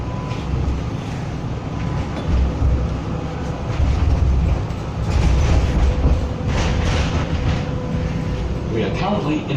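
A Melbourne B class tram rumbles along from on board, its steady low rolling noise punctuated by clacks and rattles over the rails, with occasional voices of passengers faint under the ride.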